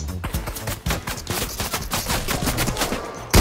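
Gunfire in Fortnite rings out as rapid, dense bursts of automatic shots, loud and close, with brief pauses and a final heavy blast at the end, no talk over it.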